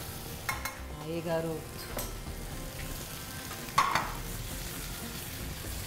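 Mushrooms fry in hot olive oil with garlic in a pan, giving a steady sizzle with stirring scrapes and a sharp utensil clink, while a person briefly speaks.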